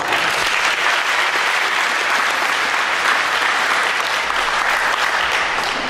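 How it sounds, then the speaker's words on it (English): Audience applause at a school Honors Day ceremony, steady dense clapping from a large crowd filling the whole stretch at even loudness. "Just give another applause."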